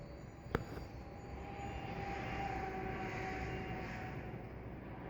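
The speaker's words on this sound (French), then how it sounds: "Ah mais l'avion on le voit plus." An airplane passes high overhead, a distant, steady engine drone with a faint whine that swells gently and lingers; one brief click comes early and no one speaks.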